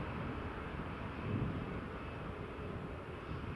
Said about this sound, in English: Ryanair just taxiing there.